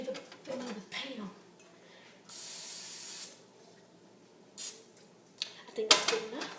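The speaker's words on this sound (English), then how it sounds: "Oh, I need to spray the thing with Pam." Pam cooking spray sprayed onto a pan while making a grilled cheese: one steady hiss about a second long, close and fairly loud, with shorter spray bursts later and a voice talking around it.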